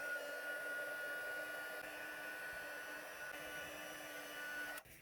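Heat tool blows a steady, loud, hair-dryer-like whir while melting embossing powder on cardstock, running for several seconds without pause before cutting off at the end.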